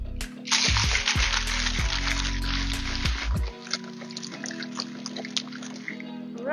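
A Taiwanese fresh green boba milk tea with whipping cream and two cups of ice is shaken in a shaker, making a loud, dense rattle for about three seconds before it settles into quieter sloshing.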